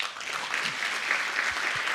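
An audience gives speaker Stefan a round of applause after his talk, a thick, continuous burst of many people clapping that fills the room evenly for its short length.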